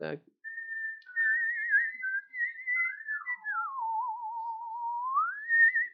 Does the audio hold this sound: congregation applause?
no